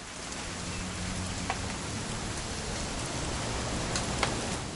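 Rain falls steadily in the video game What Remains of Edith Finch, a constant soft hiss of drops with a few faint sharper ticks and no talk.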